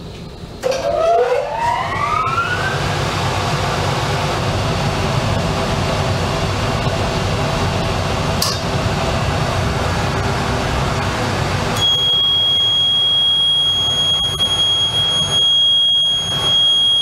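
A Miura boiler alarm sounds after a simulated high gas pressure switch trip, a loud rising electronic tone that settles into a steady piercing whine, then shifts to a sustained high beep over a constant mechanical hum.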